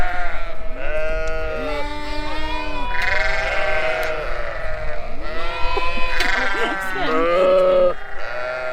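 Lambs and ewes bleating in a pen, many overlapping nearby calls, some loud and close, in an unbroken chorus.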